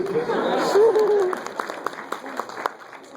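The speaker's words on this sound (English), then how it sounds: "You can applaud me." An audience at a Japanese toy collectors' event breaks into brief applause, a dense burst of clapping that thins into scattered claps amid murmuring chatter, with someone speaking over it.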